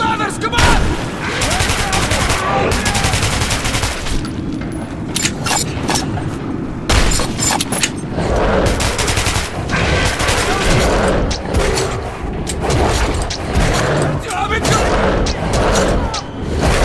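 Heavy gunfire in the video game Metro 2033 Redux: sustained loud bursts and booming blasts that keep coming almost without pause, with shouting voices mixed through the barrage.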